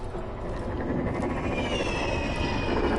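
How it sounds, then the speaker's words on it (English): Aircraft-like engine drone from flying drones in the Batman Telltale video game, a steady loud whirring hum with a rising whine, continuous for the whole stretch with no talk. "And he got my drone techs flying around here."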